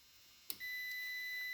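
Continuity tester grounded to the case on a wire of a ZF5 transmission swap in a Bullnose truck, a click followed by a steady, continuous high-pitched electronic beep that stays on, fairly faint.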